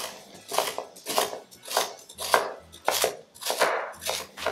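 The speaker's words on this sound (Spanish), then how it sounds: "Vamos a estar pelando todas las zanahorias para luego cortarlas en cubitos del tamaño que tú quieras" A knife chops carrots into cubes on a board for meatball soup, a steady run of about eight sharp, close cuts in an even rhythm with no talk.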